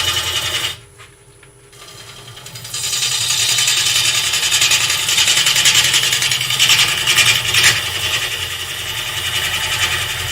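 A wood lathe spins a workpiece while a tool cuts into it, a loud steady whirring scrape with a brief quieter pause before cutting resumes and holds.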